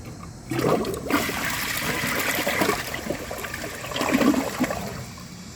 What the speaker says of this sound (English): I'm just gonna try it again to see if I got lucky that time.